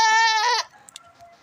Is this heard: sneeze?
no